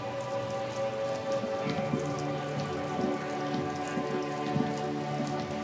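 Rain pours steadily in the game Disco Elysium, a dense, even hiss of drops on surfaces with a low layered drone underneath, unbroken and with no voices.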